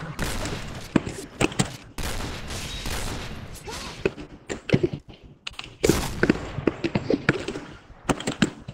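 Bursts of rapid video game gunfire crackle in quick volleys, with sharp individual shots between them, loud and continuous over several seconds.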